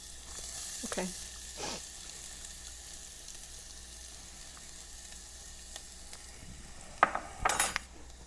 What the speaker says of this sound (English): We're gonna start with some small part of olive oil because we're gonna saute the garlic and the ginger that I previously did